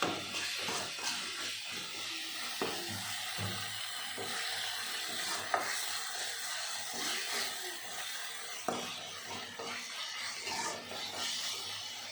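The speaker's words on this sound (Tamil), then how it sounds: "நல்லா வதக்கலாம் லேசாக ஒரு முக்கால் பழம் தக்காளி வெங்காயத்தை வதக்கலாம்" Tomato and onion sauté in a pan for rasam, giving a soft, steady hiss with occasional sharp taps and scrapes of stirring, quiet and without voices.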